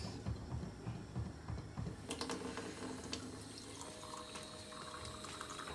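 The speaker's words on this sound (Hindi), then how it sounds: "पानी डाल दो इसमें, और डाल दो पानी।" Water is poured into a cooking pot while food is being made, a steady splashing stream that settles into a rising, filling tone near the end.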